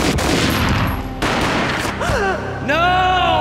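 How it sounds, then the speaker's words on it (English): Gunfire in the video game Max Payne, a loud sharp burst and boom with echoing tails, followed by swooping electronic tones, no speech. "A gunshot boomed and she fell down in slow motion."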